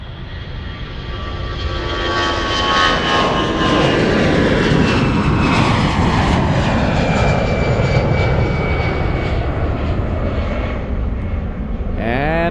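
A Lufthansa airliner bound for Athens takes off from Munich airport. Its engines give a loud, sustained roar that slowly rises and then eases off as the aircraft climbs away.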